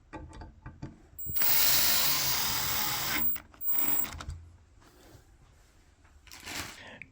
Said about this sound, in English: we'll put some screws from underneath